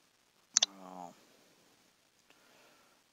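Two quick, sharp clicks of a computer mouse double-clicking a file during a recorded engineering lecture, followed by a short voiced sound. A faint single tick comes later in a quiet room.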